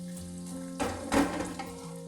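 Curry leaves, ginger, garlic and onion drop into hot oil for string hopper fried rice, giving two brief bursts of sizzle over a steady low hum, then fading to a faint crackle.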